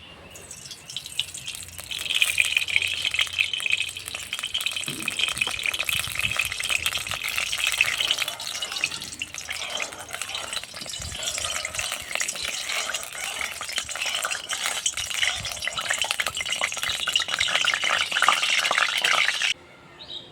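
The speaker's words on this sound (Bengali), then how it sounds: "কড়াই ভালোভাবে গরম হয়ে এসছে এখন দিয়ে দেবো সর্ষের তেল" Mustard oil sizzles and crackles in a hot wok (kadai), a steady bright frying hiss that starts after a quiet moment and continues loudly before cutting off, with no talk.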